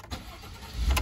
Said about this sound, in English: But let's start this truck up now.